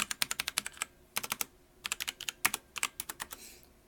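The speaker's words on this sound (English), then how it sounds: "Here's what the number pad sounds like." Number pad keys on an Azio MGK-1 mechanical keyboard are tapped in quick bursts of sharp, clicky keystrokes separated by brief pauses, close up and fairly quiet, with no speech.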